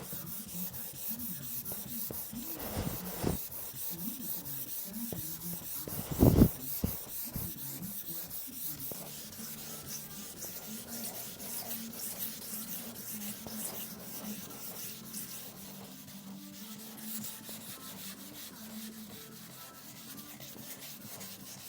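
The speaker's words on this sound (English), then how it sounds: "got that all blocked down with 240" Block sanding a car body panel with 240-grit sandpaper: steady, close scratchy rubbing strokes, with a brief louder scrape near the middle before the strokes soften.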